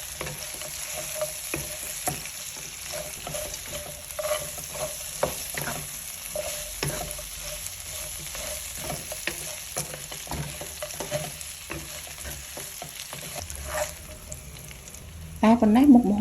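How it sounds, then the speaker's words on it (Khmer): Chicken stir-fries with lemongrass, kaffir lime leaves and galangal, a continuous close sizzle broken by frequent scraping strokes of a spatula in an uneven rhythm, with a louder clatter right at the end. "ទើបខ្ញុំដាក់គល់ស្លឹកគ្រៃស្លឹកក្រូចសើចនិងរំដេងដែលបានបំពងមុននេះចូលឆាជាមួយគ្នាមួយសន្ទុះទៀត"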